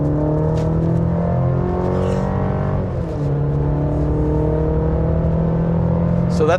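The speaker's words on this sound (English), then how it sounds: "All right, and we're accelerating." A road vehicle's engine pulls steadily as it accelerates onto a freeway from about 40 to 70, a loud, continuous, close-up hum with a brief dip midway before the drone resumes.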